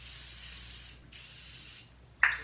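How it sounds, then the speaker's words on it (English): Morphe setting spray misted onto the face in a short, close, airy hiss that ends sharply after a quiet stretch. "If you want to set your face, use anything, or you can use Morphe setting spray."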